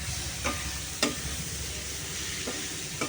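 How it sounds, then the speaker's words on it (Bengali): Lentils fried with spices in a pan for mixed khichuri, a steady close sizzle with a few sharp scraping stirs of the spoon against the pan, no voices. "আগে ডালটা দিয়ে একটু ভালো করে কষিয়ে নেবো মধ্যে"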